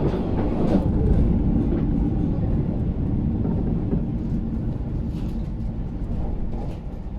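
A train rumbles steadily along the rails after leaving Yufuin Station, curving sharply, a continuous heavy low roar with faint rhythmic clatter throughout, close and loud, no voices.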